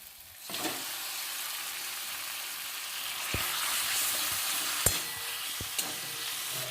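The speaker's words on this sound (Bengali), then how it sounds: "চিকেনটাকে একবারে নিয়ম মতো কষে নিতে হবে, একদম যেন চিকেনটা এখানেই সেদ্ধ হয়ে যায়।" Chicken with tomato and garam masala fries in a pan, a steady hissing sizzle starting abruptly, broken by a few sharp utensil knocks against the pan, no voices.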